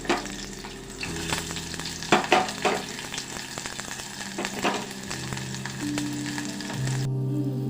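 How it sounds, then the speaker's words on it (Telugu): Onion pieces fry in hot oil in a pot for prawn dum biryani, a steady close sizzle with bursts of crackle and occasional stirring clatter, no voices. "కాస్త ఆయిల్ వేడెక్కాక ఈ ఉల్లిపాయ ముక్కలు ఇందులో ఎర్రగా వేపేసుకుందాం."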